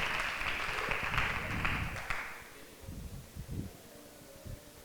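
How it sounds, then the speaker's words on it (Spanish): An audience claps loudly as two guests are welcomed onto a stage, a dense wash of applause that cuts off after about two seconds, followed by low rumbling and rustling. "Un fuerte aplauso."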